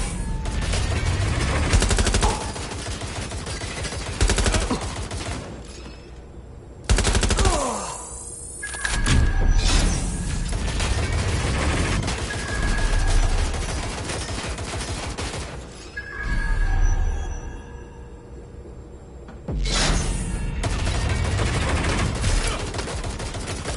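Gunfire in the video game Watch Dogs Legion, with loud bursts of automatic fire and shots broken by short pauses and brief electronic tones, continuing over about twenty seconds.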